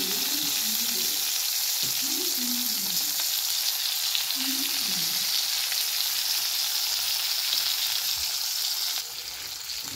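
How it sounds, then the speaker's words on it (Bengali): Steady loud sizzling of dried fish with turmeric, chilli powder and salt frying in a hot pan, with a few brief scraping stirs early on; no talking. "এখন শুটকি আমি অল্প ভাজা করব"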